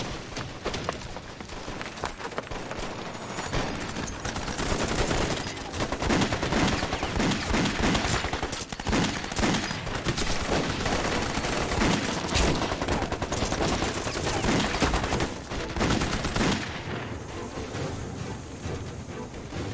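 Gunfire in a war drama set during a Red Army encirclement, heard as rapid, crackling volleys of rifle and machine-gun shots that run almost continuously for twenty seconds. The shooting is loud and dense, with sharp individual cracks scattered through the barrage.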